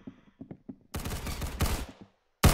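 Rapid automatic gunfire in the video game Arsenal, a dense loud burst of shots lasting about a second, then a brief pause and a final sharp blast, with a few quieter clicks leading in.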